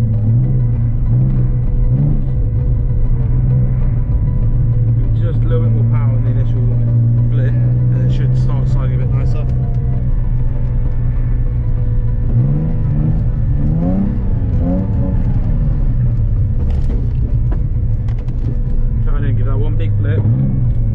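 A Nissan 350Z revs and accelerates through a drift session on a track, a steady engine drone with rising and falling pitch sweeps as gears change, loud and continuous while a person talks over it.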